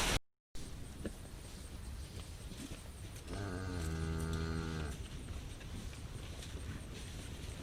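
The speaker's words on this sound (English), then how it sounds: "Hey, cow!" Cattle on a farm let out a single long, drawn-out moo close by, rising out of faint outdoor background noise after a brief dropout at the start.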